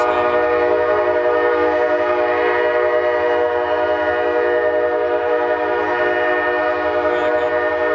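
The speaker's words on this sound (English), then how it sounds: "Train's coming." A train roars steadily past close by, its horn blaring a sustained chord over the constant rumble and clatter of the wagons.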